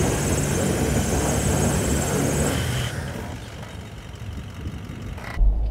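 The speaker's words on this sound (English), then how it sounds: "We just had a lot of wheel spin there." A Toyota Land Cruiser 200 in sand mode spins its wheels on a hill climb, giving a loud roar of engine and churning tyres that fades after about three seconds.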